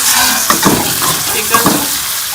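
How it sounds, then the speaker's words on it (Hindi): Chicken frying with light golden onions in a pan, a steady close sizzle with a couple of soft stirring scrapes, no voices. "इसको अच्छी तरह से मैं फ्राई कर लूँगी, कलर चेंज होने तक"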